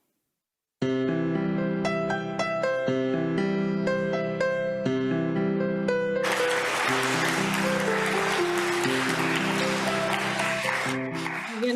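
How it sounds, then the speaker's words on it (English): A bright, tonal children's song plays steadily, then midway a dense wash of audience applause swells in and keeps going over the music to the end, with no talking. "Again, some claps there"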